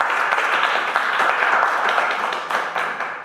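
An audience at a university startup event applauds in a brief, continuous burst of dense clapping.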